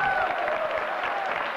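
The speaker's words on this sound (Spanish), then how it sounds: "os pido un gran aplauso para René Laván" An audience applauds magician René Lavand as he is introduced, a brief steady wash of clapping with faint voices under it.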